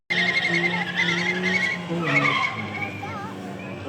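Toyota Hilux spinning its wheels on launch at a drag strip, a loud sustained tyre squeal with rising engine note over a busy race-meeting backdrop, with a commentator talking throughout.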